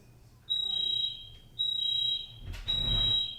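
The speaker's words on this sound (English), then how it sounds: "There was a fire alarm," An indoor fire alarm sounds in repeated piercing electronic beeps, three long bursts separated by short gaps, with a bump of handling noise between the last two.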